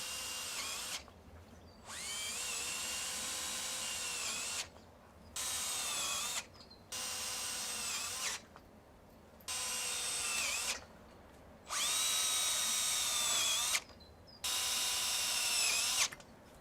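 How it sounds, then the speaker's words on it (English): A power drill whirs in repeated bursts of one to two seconds each, revving up and stopping as self-drilling screws are driven into joins and P-clips, with short pauses between. "Secure all joins and P-clips with a self-drill screw."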